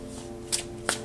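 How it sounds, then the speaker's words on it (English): Two quick, crisp riffles of a tarot card deck being shuffled by hand, each one short and papery, heard close and fairly soft over a faint background hum. "I cannot even shuffle this deck, it just keeps dropping cards."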